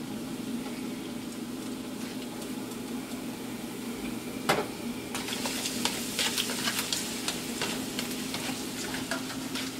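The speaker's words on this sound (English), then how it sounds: "So I'm burning my onions," Garlic and onions fry with curry in a hot pot, a steady sizzle with crackles and spits bursting louder partway through.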